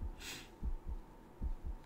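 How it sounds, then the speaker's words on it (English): A heartbeat thumps in the fantasy video game Archmage Rises, soft low double beats repeating at a slow steady pulse, faint and alone with a brief hiss near the start. "Now there's a little thumping in the background, a little heartbeat."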